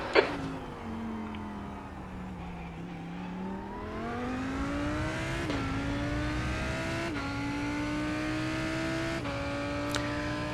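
Lamborghini Huracán GT3 Evo engine in the iRacing sim at Hockenheim, a steady sustained drone climbing in pitch through gear changes with sharp shift blips, alone and fairly quiet.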